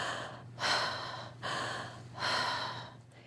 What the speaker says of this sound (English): it's an open mouth, circular type of breath, still conscious